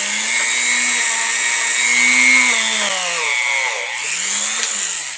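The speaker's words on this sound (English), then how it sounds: "The wire wheel handle that." A spinning wire wheel scrubs caked-on grime off interior trim components of a 99, a loud continuous whirring grind with pitch dipping as it bites and recovering, steady and close with no talking.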